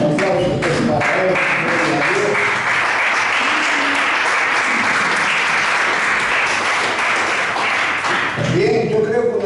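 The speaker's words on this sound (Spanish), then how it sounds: "Todos los aplausos del Padre." Sustained applause from a church congregation fills the space for nearly ten seconds, loud and steady, with a few voices over it near the start and end.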